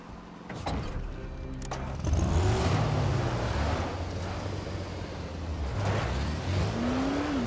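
A car drives over rough ground in Dying Light: The Following, engine revving and surging loudly, with rising pitch as it accelerates and bumps and thuds along the way; no talking.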